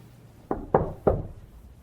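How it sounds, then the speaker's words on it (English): Three firm knocks on a door, evenly spaced and fairly close, standing alone against a quiet room. "That knock has intentions."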